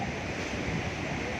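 Sea waves wash onto Calangute Beach in Goa at night, a steady close rush of surf mixed with wind noise and no clear breaks.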